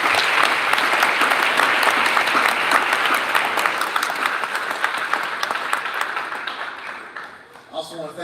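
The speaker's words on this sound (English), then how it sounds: "Let's give our coaching staff that's back here a round of applause." Sustained applause from a banquet audience at a high school fall sports athletic banquet, honoring the coaching staff; dense, steady clapping fills the room and gradually thins out toward the end.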